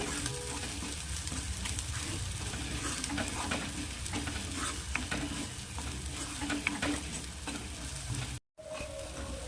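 Pumpkin sabzi with turmeric and red chili stirred in a hot pan, a continuous close sizzle with rhythmic scraping and stirring, broken by a brief gap near the end.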